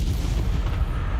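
A loud, dense blast from the Confringo spell in Hogwarts Legacy, a heavy rumbling burst that stays low and booming throughout, with no talk over it.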